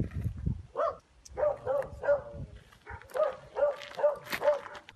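Injured street dog lying on the road after being struck by a car, giving a series of high, tonal whimpers and yelps in a steady rhythm, close and moderately loud, with faint voices of bystanders in the background.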